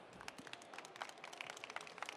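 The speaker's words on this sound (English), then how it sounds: "I see you applauding" A conference audience applauds at an event design session, a faint, steady patter of many hands clapping with no voices over it.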